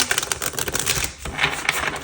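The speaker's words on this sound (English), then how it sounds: "I'm just going to shuffle one more out." Tarot cards are shuffled by hand during a card reading, a quick run of dense crisp riffling clicks and snaps, close and steady, with no voice over it.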